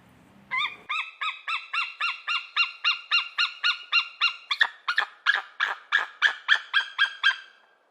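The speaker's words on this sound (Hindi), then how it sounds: "और ईगल की आवाज़ कुछ ऐसी होती है।" An eagle's call: a loud series of about fourteen evenly spaced, sharp, chattering cries heard alone, the first run clipped and ringing, the later notes slightly longer and harsher, ending abruptly.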